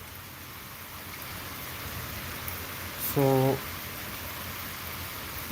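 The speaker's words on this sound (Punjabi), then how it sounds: "ਹਲਕੀ ਬੂੰਦਾਬਾਂਦੀ ਨਿਰੰਤਰ ਜਾ ਰਹੀ ਏ" Light, continuous drizzle falls in a steady soft hiss, with one brief tonal chirp rising briefly above it midway.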